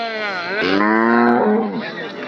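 A cow at the Anthiyur cattle market lets out one long, loud, wavering moo close by, rising and falling over about two seconds.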